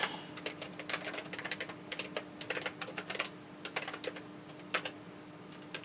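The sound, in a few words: typing on a Tandy computer keyboard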